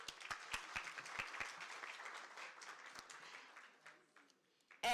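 An audience at a university teaching and learning festival applauds the deans, with scattered sharp claps building into a modest round of clapping that tapers off before a voice begins.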